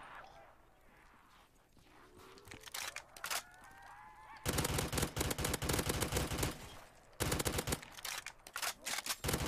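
Rapid bursts of AK assault rifle fire in a zombies shooter game, loud and dense from mid-clip onward with a brief pause, following quieter game sounds and rising tones.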